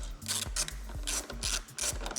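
A ratchet wrench loosening an 8 mm bolt on a Mercedes W211 bumper gives close, repeated rasping clicks in quick back-and-forth strokes with no talk.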